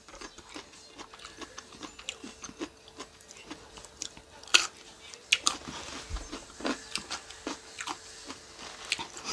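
Green mango with sweet fish sauce being bitten and chewed up close, giving repeated crisp crunches and wet chewing sounds in an uneven rhythm with no talking.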